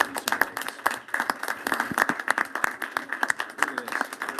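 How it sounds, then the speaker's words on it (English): An audience at a school board meeting applauds the undefeated city-champion girls' basketball team, a close, dense burst of many hands clapping, with sharp peaks throughout. "Give it a round of applause for these two ladies."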